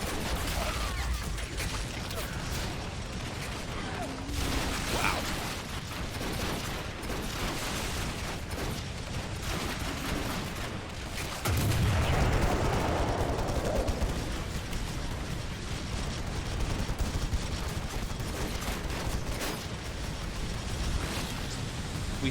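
A dense, constant rumble of distant explosions and rapid gunfire fills a Warhammer 40k Ork army battle, with a heavier blast swelling midway and the crackle continuing low and steady throughout.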